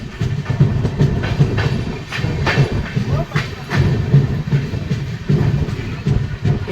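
Rupasi Bangla Express crossing the Kansai river bridge near Medinipur, giving a close, rhythmic clickety-clack of wheels striking rail joints over a dense rolling rumble.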